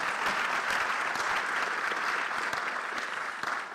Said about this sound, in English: Round of applause right there, insert round of applause